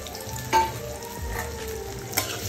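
Onions and green chillies sauté in a pan for a curry leaves mutton fry, giving a steady close sizzle broken by a couple of sharp stirring scrapes.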